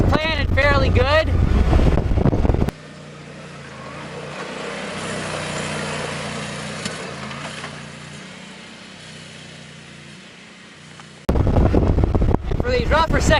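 A Yamaha Wolverine X4 side-by-side crossing rough terrain gives a continuous low engine drone with wind rush, while someone talks over it at the start and end.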